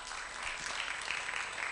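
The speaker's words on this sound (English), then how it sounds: "Let's clap for him." Audience applause at a Software Freedom Day event, a steady, even wash of clapping from a crowd that holds at a moderate level for the whole short stretch without pauses.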